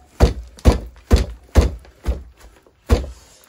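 A plant pot being banged to loosen roots at a plant nursery, six firm hollow thunks in a steady rhythm, close and loud.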